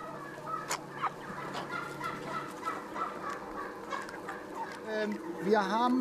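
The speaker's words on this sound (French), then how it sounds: "Les poulets évoluent à leur gré entre le bâtiment et la volière extérieure." Free-range chickens moving between a barn and an outdoor aviary cluck and call in a busy, overlapping chorus, fairly quiet, with a louder squawk near the end.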